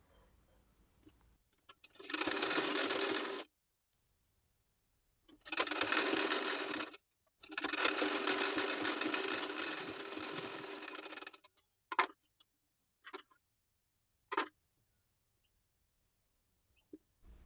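A sewing machine stitches the side fitting of a blouse sleeve in three steady, close runs of rapid mechanical whirring, the last run the longest, followed by quiet stretches with a few faint clicks and soft ticking.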